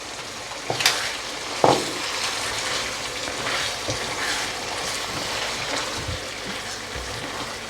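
Almond paste ground with warm water is tipped into yogurt cooking in a pan for chicken korma, giving a soft wet sizzle and a couple of brief plops, with a steady low frying hiss throughout.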